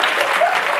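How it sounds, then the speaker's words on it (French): A brief burst of loud, dense applause from a crowd at a live hypnosis show, a close, steady roar of clapping. "Mesdames et messieurs, on pourrait applaudir s'il vous plaît Baptiste."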